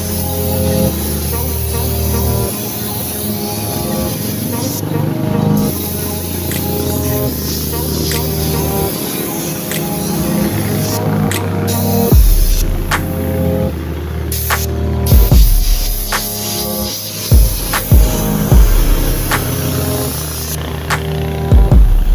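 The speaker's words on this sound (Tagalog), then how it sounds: "is need muna nating mag-spray dito ng silver" A spray gun lays down a silver base coat before red paint, producing a steady, loud hiss that runs almost without a break, broken by occasional short gaps and background clatter.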